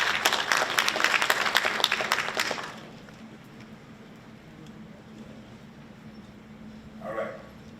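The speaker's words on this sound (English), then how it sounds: "clap it up for them" Audience applause for competing school teams at a Haitian history bee, with loud, dense clapping for the first few seconds before fading into quiet room noise.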